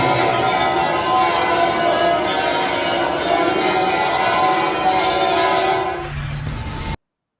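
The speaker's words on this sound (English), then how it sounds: "Church does the right thing and starts ringing their bells loudly." Bells of a Montreal cathedral ring loudly and continuously, a dense sustained clangour with a rumbling undertone that cuts off abruptly before the end.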